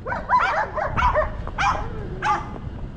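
A dog barks in a quick series of sharp yaps and whiny barks, close and fairly loud, with brief gaps between bursts, outdoors near a car, a sand pile and a stump.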